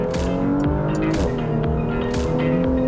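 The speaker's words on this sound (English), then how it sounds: "The driving enthusiast will love the array of mechanical sounds from the engine and driveline" A 2020 Porsche Macan Turbo engine pulls hard at full throttle, close and loud, with a steady layered mechanical roar from engine and driveline that dips briefly as it shifts gear, then climbs again.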